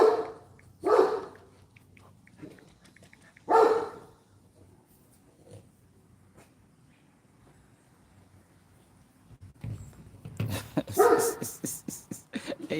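Scattered dog barks ring out at intervals, some distant, with a quiet stretch between and a burst of rapid barking near the end.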